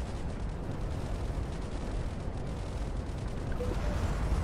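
Eight bombers strike a single tank in the strategy game ICBM Escalation, a dense continuous roar of explosions and blasts, loud and steady with no clear gaps.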